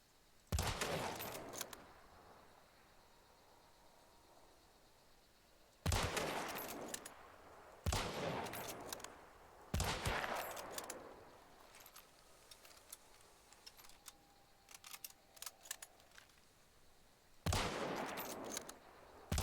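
Gunfire in a shooter video game played on Hard difficulty, aiming for headshots: sharp shots and short rapid bursts come every few seconds, loud and close over a quiet background, with scattered smaller clicks and no voices.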